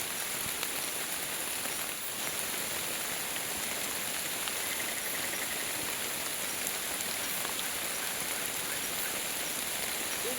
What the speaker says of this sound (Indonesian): Hujan pula teman-teman